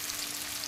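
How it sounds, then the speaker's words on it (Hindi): Chopped kaitha (wood apple) fries in hot oil with cinnamon, black cardamom and cloves, a constant close hiss of sizzling with no talk over it. "इसी में कटा हुआ कैथा डाल के भून लेते हैं।"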